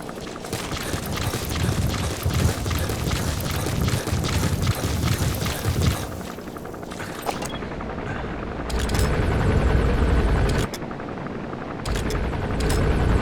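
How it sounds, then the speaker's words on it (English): An enemy gunship helicopter in Metal Gear Solid 5 lays down loud, sustained machine-gun fire over a rotor drone, then drops into short choppy bursts with brief gaps. "That's an enemy gunship. A single burst from its machine gun could cut a man in half."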